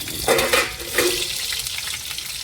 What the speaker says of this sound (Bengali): এই তেলের মধ্যেই আলু কটা ভেজে